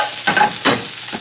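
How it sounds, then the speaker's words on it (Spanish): Onion, garlic and chili toasting in a teaspoon of butter in a pan, a close, loud steady sizzle with a couple of stirring scrapes. "lo que hice fue poner la cebolla y el ajo y el chile con una cucharadita de mantequilla a tostar"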